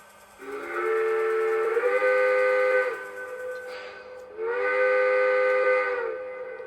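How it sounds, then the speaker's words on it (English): A Lionel Legacy toy train steam whistle sounds twice, each a steady sustained hoot of about two and a half seconds with a breathy hiss, separated by a short gap. "Here's the whistle."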